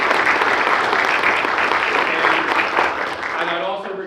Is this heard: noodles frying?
no